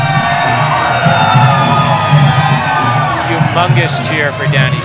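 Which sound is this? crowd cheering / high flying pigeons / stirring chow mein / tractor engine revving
crowd cheering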